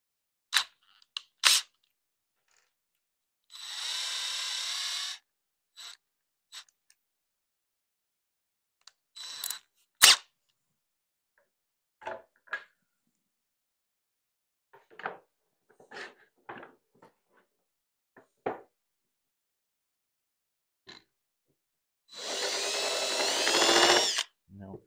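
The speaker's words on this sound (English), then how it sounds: "Let's try it in the drill. See if that's any better." Two sustained bursts of a power drill whirring as it drives a screw into pantry doors, a couple of seconds each, separated by scattered clicks and brief taps, with quiet gaps between.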